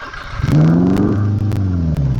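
A Chevette 1.6 turbo engine catching after a push start and revving hard right away, a loud, close, rising roar with a sputtering edge that holds and wavers for a couple of seconds.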